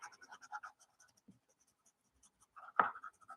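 Star Joyce colored pencils scratching across paper in quick, light strokes, close and quiet, with one firmer scrape near the end and short gaps between strokes.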